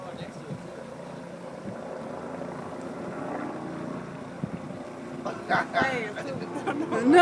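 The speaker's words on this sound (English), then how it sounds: "there's a helicopter right behind it." Helicopter rotor drone in a video game, a steady low throb running throughout at moderate level while players talk over it, with sharper game effects rising near the end.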